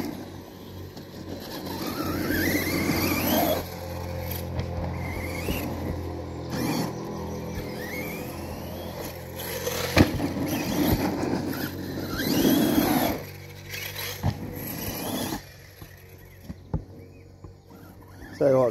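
An Arrma Kraton RC car fitted with a new motor running on a playground, its motor whining and surging up and down in bursts, at times near and at times distant, with voices at points.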